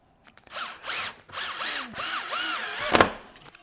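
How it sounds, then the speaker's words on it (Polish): A power drill drives screws to fasten a wooden strip onto a larger wooden piece while making jigs from scrap, whirring in several short bursts with brief pauses between, close and fairly loud. "I teraz przykręcimy sobie tą listewkę do tego większego elementu"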